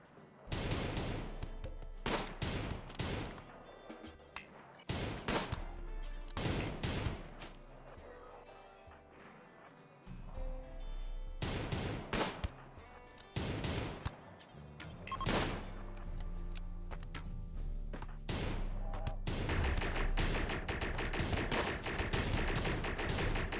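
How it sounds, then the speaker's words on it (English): Rapid bursts of weapon fire ring out in a space shooter game, loud, dense volleys cut by brief pauses and a sustained stretch of shooting near the end, with game effects layered beneath. "Shoot it. Just shoot the thing."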